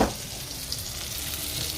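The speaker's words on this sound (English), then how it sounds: "See, look at that. You hear that sizzle?" Lamb steaks sizzle steadily in a hot frying pan, giving a continuous, close, loud hiss and crackle with no talking.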